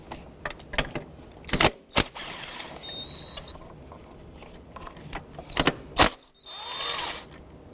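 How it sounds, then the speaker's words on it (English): Throttle body bolts on a Honda Civic are loosened with a ratchet, giving close clicking ratchet bursts and metallic creaks in several clusters, with a few squeaky tool sounds and brief pauses between turns. "Now I'm going to loosen the bolts completely"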